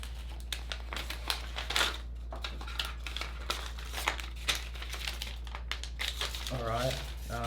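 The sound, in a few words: peeling protective plastic off AirPods Max case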